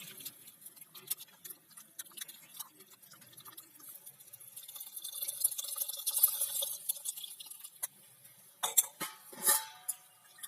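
Tamarind water is poured into a bitter gourd curry cooking on a village wood-fired stove: soft trickling and scattered drips that build gradually, then several louder splashes near the end.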